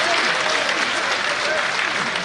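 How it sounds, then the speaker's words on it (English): A crowd at a provincial ANC political conference breaks into sustained applause, an even, continuous roar of clapping that holds at a moderate level from start to finish. "We will give them a very big round of applause."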